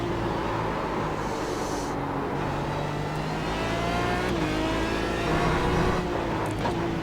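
An Aston Martin DBR9 GT1 race car in the iRacing simulator laps the Nürburgring, its engine a loud, continuous drone that climbs and dips in pitch through gear changes.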